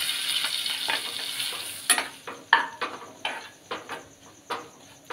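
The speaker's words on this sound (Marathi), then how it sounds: "ते आता थोडं भाजून घेऊया त्याच्यात" Gram flour (besan) roasting over low heat in a pan with curry leaves for Sindhi kadhi, stirred with a spoon: a soft sizzle early on, then a series of close scraping strokes and clinks against the pan, with no voices.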